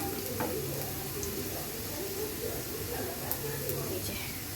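Onion and chili frying in a frying pan, a steady sizzle heard close and moderately loud, with faint kitchen clinks and a bird chirping in the background.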